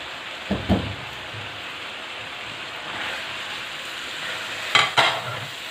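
Chicken and spices being stirred together in a karahi pot over a steady, bright sizzle, with a few sharp spoon clanks against the pot near the start and again toward the end.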